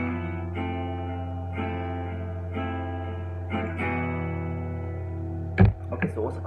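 Picked guitar playing a song intro, sustained chords and arpeggios with effects and reverb under a low drone, followed near the end by a couple of sharp handling knocks.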